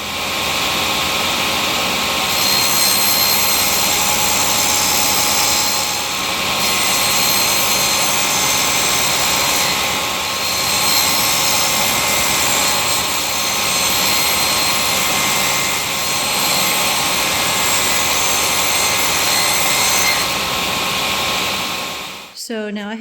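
A table saw cuts a groove halfway through a wooden shelf board, a loud, sustained, even whine that drones for over twenty seconds before abruptly spinning down at the end.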